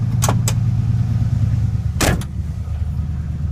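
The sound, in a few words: 1970 Chevy C10 pickup truck pulling out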